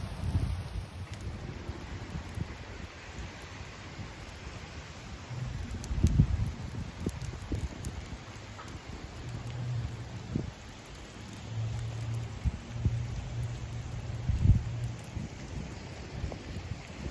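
Steady rain falls outdoors, a continuous soft hiss with occasional heavier drips and low rumbles, no voices.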